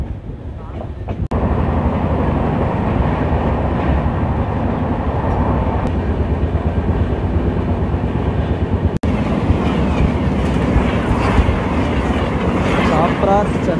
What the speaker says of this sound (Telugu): మన ట్రైన్ సూళ్ళూరుపేట రైల్వే స్టేషన్ నుంచి కూడా బయలుదేరిపోయింది